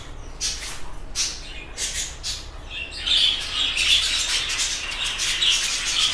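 Home-bred budgerigars kept for sale squawk and chirp in dense, overlapping bursts, the chatter growing busier and louder in the second half, with no talk.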